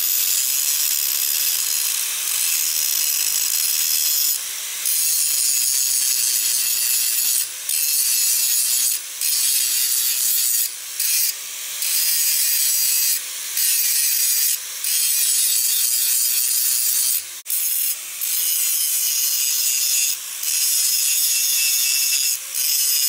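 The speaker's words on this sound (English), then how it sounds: "go to the sander and sand up everything so it doesn't look like crap" A forged steel V42 stiletto dagger being worked on a sander, a continuous loud hissing grind broken by many short pauses as the blade is lifted and repositioned.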